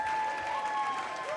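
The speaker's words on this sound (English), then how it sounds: "give a big, huge round of applause to Fuding" An audience at a Moth StorySLAM storytelling night claps as a storyteller is called to the stage, a brief steady burst of crowd applause with a thin whistle-like tone held above it.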